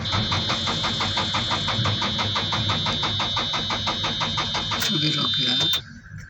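A JCB backhoe loader's engine cranks steadily with a rapid, even starter rhythm but fails to catch, then abruptly stops near the end.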